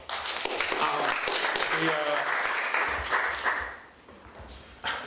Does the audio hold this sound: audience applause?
yes